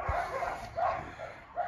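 Several dogs at a mountain base yelp and bark in short bursts, a few moderately close calls spaced through the moment with steady outdoor background noise.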